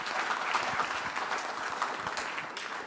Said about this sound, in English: Big round of applause for Jyoti.